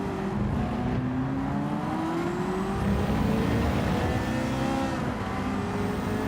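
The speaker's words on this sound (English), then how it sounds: "Oh, listen to that car." A car engine revs in the Gran Turismo 7 racing game, its pitch climbing and easing through rising gears. The loud, continuous drone dominates throughout, with no voices over it.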